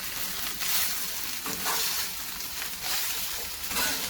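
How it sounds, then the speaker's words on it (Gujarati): Soya chunks sizzle and fry in hot oil in a pan, with a steady crackling hiss swelling in bursts as they are stirred, close and alone without talk. "થોડા શેકી તેલમાં અને પછી એને અલગ કાઢી દઈશું"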